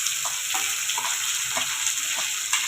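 Garlic, chillies and tomatoes fry in hot oil for Kathiyawadi kadhi, giving a constant bright sizzle punctuated by regular soft stirring knocks.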